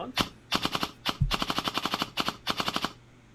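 An E&C XM177 airsoft rifle fires several rapid full-auto bursts, close and loud, each burst a quick rattling string of shots with brief pauses between.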